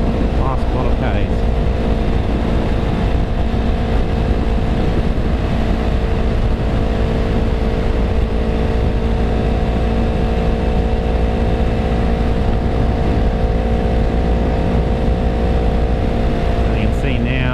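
A Yamaha YZF R3 motorcycle engine holding high revs around 7,000 RPM in sixth gear while riding, a steady loud drone with wind rush throughout, unchanging over the whole stretch, with no speech over it.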